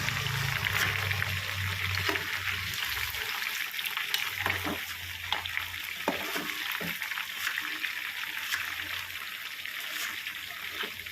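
Chicken being turned over in a hot pan of oil keeps up a steady sizzle and frying hiss, with a few scraping clicks from the flip partway through. It stays close and continuous the whole time, and no one speaks.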